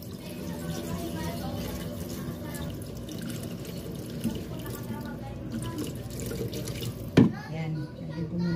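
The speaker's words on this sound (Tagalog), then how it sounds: "lagyan ko na ng tubig." Water runs and splashes into a pan of sizzling pork bistek with pork belly, a steady liquid pour under faint speech, ending with a sharp clank near the end.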